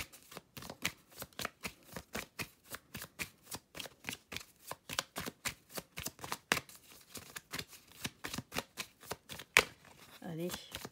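Playing cards dealt one after another in a card-reading session, a long run of crisp, quick slaps and flicks at a fairly steady rhythm, close by, with a voice talking lightly underneath.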